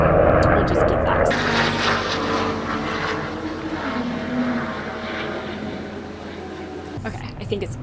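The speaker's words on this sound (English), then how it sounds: "can't you hear the helicopter?" Helicopter flying overhead, a loud steady engine and rotor drone that fades slightly as it passes, with a voice talking underneath.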